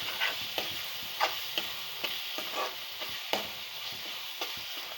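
Spices frying in oil with tamarind juice, for Telugu kodigudu pulusu, give a steady close sizzle with scattered scraping stir strokes against the pan throughout, no voices.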